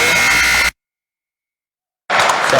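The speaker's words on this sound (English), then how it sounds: "is that the buzzer?" A buzzer ends a period at a high school wrestling match, a loud harsh electronic drone heard close. It cuts off abruptly and is followed by a short silence before crowd or arena noise returns.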